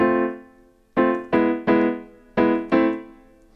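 Piano chord accompaniment for a song from Turning Red, struck in a syncopated rhythm, one long sustained chord followed by several short repeated hits, played alone and clearly.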